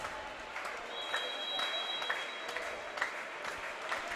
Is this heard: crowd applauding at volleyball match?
yes